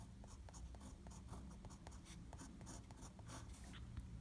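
A pen writes Chinese characters by hand on paper. It makes a quiet, close run of short scratchy strokes and taps in an irregular rhythm, with no talking.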